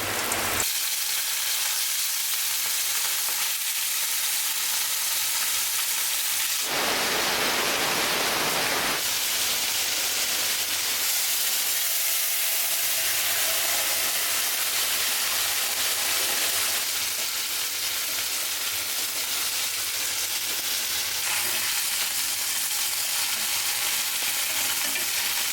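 Panch phoron, garlic, onion and dried chilli fry in hot oil with a steady, dense sizzle throughout, swelling louder for a few seconds partway as ingredients are stirred, with no talking.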